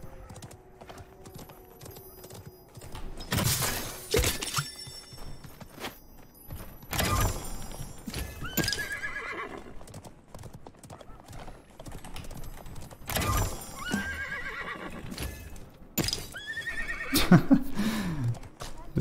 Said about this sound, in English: This horse is getting crazy.